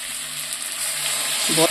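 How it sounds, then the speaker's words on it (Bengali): Potatoes and ground spices sauté in a pan with a steady close hiss of frying, a brief burst with a voice briefly heard at the end. "মশলাটা আর আলু মশলা একসাথে আবারও কষিয়ে নিচ্ছি"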